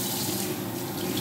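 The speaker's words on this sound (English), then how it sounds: "you've got the soap, so the water, the soap, and then the dryer." Water runs steadily from the tap of a hand wash unit, a continuous close splashing hiss with no speech over it.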